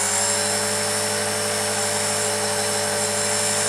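An RC helicopter in idle up with its rotor spinning, a loud, continuous high-pitched whine and buzz held steady throughout, close by and without talk.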